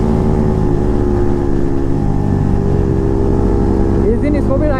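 A KTM Duke 390 motorcycle with a loud aftermarket exhaust runs with a steady, deep, continuous engine drone close by, and a voice briefly joins near the end.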